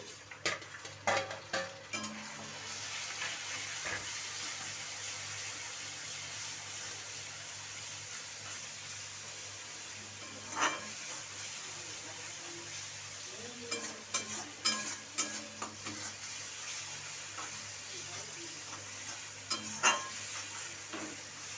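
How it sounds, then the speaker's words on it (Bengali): Spice masala sizzles and fries in a pan while being stirred, with a continuous soft sizzle and scattered scrapes and clinks of the utensil against the pan. "তো মশলাটা এরকমই ভালো করে নাড়াচাড়া দিয়ে নিতে হবে"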